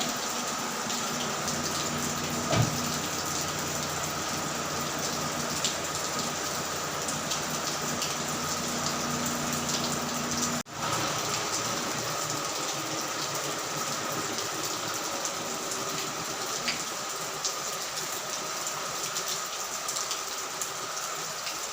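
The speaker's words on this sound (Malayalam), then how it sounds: "നല്ല മഴയാണ്." Heavy rain pours steadily outside a house, a dense even hiss of drops on surfaces lasting throughout, with a couple of brief knocks and no voices.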